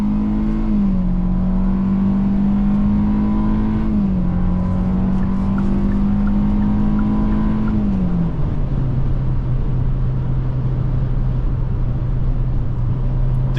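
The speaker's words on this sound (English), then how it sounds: "decent amount of road noise seeping through" Steady road noise fills the cabin of a 2024 Hyundai Venue cruising on the highway, a constant broadband rumble beneath a droning engine tone that shifts slightly in pitch, loud and continuous with no talking.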